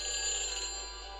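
Phone ringing on a call to a phone booth in the Back to the Future video game, a brief steady electronic ring tone, loud and alone.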